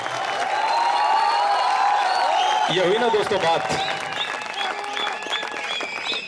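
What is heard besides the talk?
audience applause at a poetry recital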